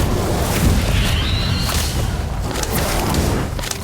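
Fiendfyre fire spell cast in a Harry Potter video game, a loud, sustained roaring rumble of magical flames with booming low-end bursts and a brief rising whoosh, continuous for several seconds without talk.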